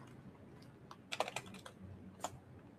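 Keystrokes rattle on a computer keyboard in a short burst of rapid clicks, followed by a lone pair of taps, close and crisp over a low background hum.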